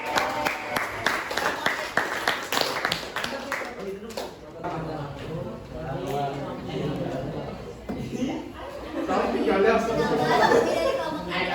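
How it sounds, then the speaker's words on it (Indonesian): Classroom applause for a student group, a burst of quick, close handclaps from a small crowd that thins out after a few seconds into murmuring chatter and voices talking. "Ya berikan aplaus untuk kelompok"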